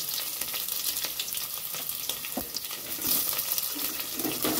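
Onions and whole spices frying in mustard oil in a pan, a steady hiss and crackle that keeps going throughout at close range, with brief clinks now and then and no talking.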